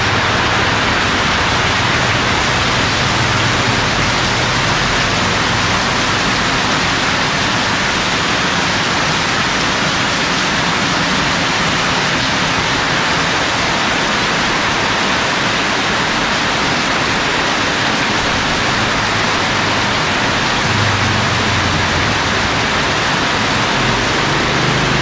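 Heavy typhoon rain pouring down on a red-tinged evening, a loud, dense, unbroken roar of water that stays steady for the whole stretch, with no voices.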